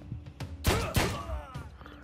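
Gunfire in the John Wick Hex video game comes as a few sharp shots, two louder blasts close together followed by a softer one, mixed with brief game sounds and a little speech.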